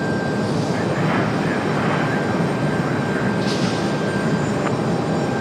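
American Airlines jet on its takeoff run from runway 23 right at Raleigh-Durham International, a loud sustained engine roar with a steady high whine, close and continuous throughout.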